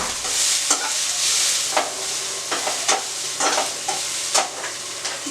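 Mint and coriander leaves fry in a pan for chicken chops, a continuous loud sizzle broken by a few scraping strokes of a spatula stirring them, close and steady, without any talk.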